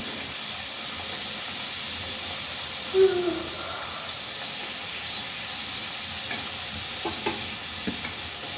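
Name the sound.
karanji deep-frying in oil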